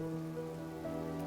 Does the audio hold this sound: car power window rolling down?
no